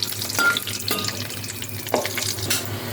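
Black cumin and dried and green chillies sizzle and crackle in hot oil in a wok, a steady close frying hiss with a few stirring scrapes and no voices.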